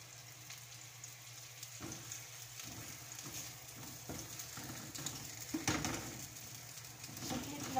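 Onions frying in a little oil in a pan for eggplant bistek, a faint steady sizzle with occasional soft stirring clicks, no talking.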